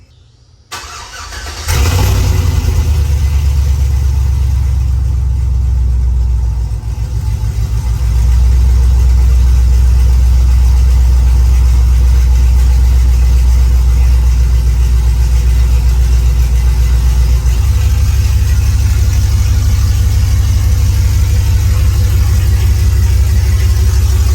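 A car engine fitted with long tube headers and a straight pipe exhaust fires up for the first time, catching loudly after a brief crank and settling into a raw, raspy, very loud idle that rises slightly midway and holds steady, with no talking.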